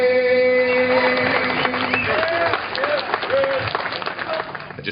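A crowd applauds as the last note of the national anthem fades, with clapping and cheers building into a dense, steady wash under a sustained sung tone.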